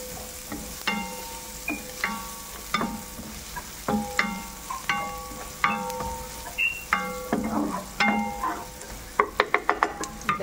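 Carrots sautéing in a hot pan, with repeated scraping and stirring strokes of a utensil over a steady sizzle, ending in a quick run of sharp clinks against the pan.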